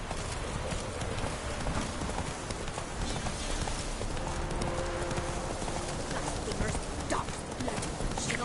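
Horse hooves clip-clop at a steady running rhythm in The Witcher 3, close and continuous for the whole stretch over a busy game ambience, with a faint whinny partway through.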